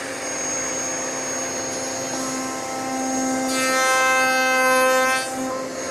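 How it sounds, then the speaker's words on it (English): A router runs steadily making cope cuts across the end grain of small wood pieces, a loud sustained whine that rises and swells midway as the cut is made, with no talk. "turn our router on, and make our cope cuts"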